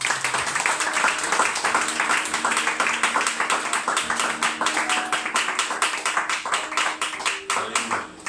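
Church congregation clapping together in acclaim during a worship service, a dense run of steady rhythmic claps filling the room, with some voices mixed in underneath.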